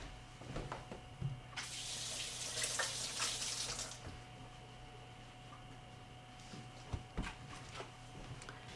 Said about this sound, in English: Just going to rinse off my hand.